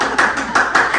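A few people clap hands at a small family party at home, five or six loud, close bursts in a steady rhythm with brief gaps between them, no talk over them.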